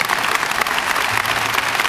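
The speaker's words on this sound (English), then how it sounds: "How about a very nice round of applause for all the kids who did such an incredibly great job today." Loud, dense clapping from an audience at a junior high school Veterans Day program, a steady wash of many hands filling the whole moment.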